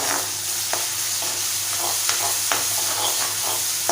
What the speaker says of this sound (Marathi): मोठ्या गॅसवरती आपल्याला कांदा तेलामध्ये छान परतून घ्यायचा आहे